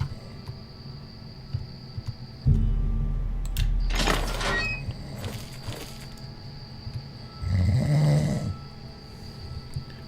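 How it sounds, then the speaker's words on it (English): A woman character in the video game Oblivion snores loudly in the game, with several long rasping breaths spread through the stretch over a faint ambient hum, and no voice over them. "Oh my god, she snores."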